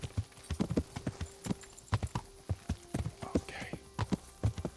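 Rhythmic clip-clopping of horse hooves in the medieval video game Kingdom Come: Deliverance, a steady close trot of sharp strikes with a faint background tone.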